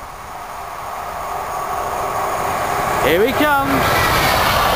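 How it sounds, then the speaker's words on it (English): A southbound intercity train passes through Needham Market station at speed, a sudden whooshing rush with a two-tone horn sweeping in around the middle over steady background rumble; someone speaks briefly just before it arrives. "we got a southbound intercity service now. About to fly his way through Needham."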